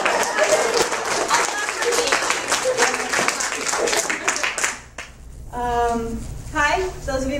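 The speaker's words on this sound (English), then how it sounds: "we clap" Audience clapping at a book signing at Mysterious Galaxy bookstore, a dense patter for about five seconds that fades as a voice begins talking over the tail end.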